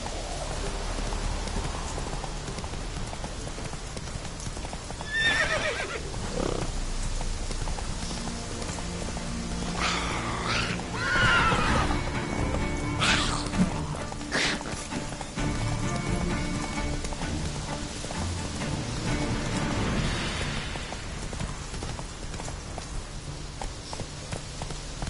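A horse galloping in The Witcher 3 video game, rapid hooves clip-clopping steadily over a rain-like wash of ambient noise for a long stretch.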